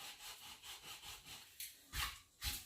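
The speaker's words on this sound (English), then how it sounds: "I'm just sanding it down" Sandpaper rubs back and forth on wood in steady, soft scratchy strokes, with a few louder, quicker passes near the end.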